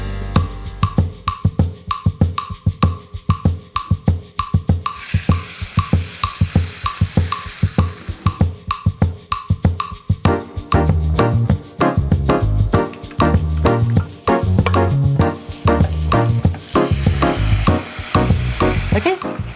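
Batter cooks in a hot waffle maker for a gourmet waffle, a loud sizzle broken into rapid, regular crackling pulses that grow denser and fuller partway through.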